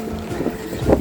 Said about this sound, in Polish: Jeszcze nigdy nie słyszałam takich podmuchów.